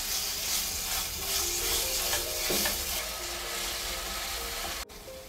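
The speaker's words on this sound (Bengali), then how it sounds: "আরও একবার খুব ভালো করে মিশিয়ে নিচ্ছি।" Chukai fruit chutney with three spoons of sugar just added, stirred in a pan over a soft continuous sizzle and hiss, quiet and steady, with faint scraping strokes throughout.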